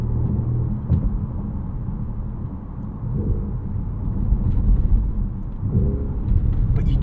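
Deep twin-turbo 4.0-litre V8 induction rumble inside the cabin of a 2025 Porsche Panamera GTS with windows down, a steady low drone swelling with acceleration and a couple of brief surges, no talk over it.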